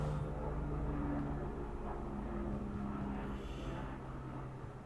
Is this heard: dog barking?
no